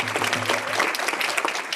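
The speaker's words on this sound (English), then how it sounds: "a huge round of applause" Dense, steady applause from a large crowd at a conference opening session, many hands clapping at once in a continuous wash of sound.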